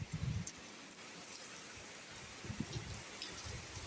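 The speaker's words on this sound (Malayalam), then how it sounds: "നല്ല മഴ പെയ്യുന്നുണ്ട്" Steady rain falls on a moss-covered back terrace, a soft continuous patter with a few heavier bursts of nearby drips, fairly quiet and even throughout with no voices.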